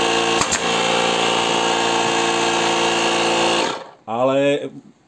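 A Parkside cordless air compressor runs with a loud, steady mechanical buzz and motor hum, then cuts off abruptly, followed by someone speaking briefly.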